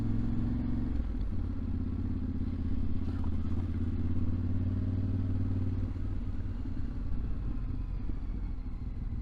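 A 2023 Yamaha Tenere 700 World Raid motorcycle rumbles along at low speed, its engine a steady, close, low drone with slight clatter throughout.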